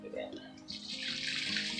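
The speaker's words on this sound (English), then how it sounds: "The rest of the water, put it in." Water is poured from a container onto a newly planted perennial, starting after a brief moment of talk and then pouring as a steady, close rush of splashing.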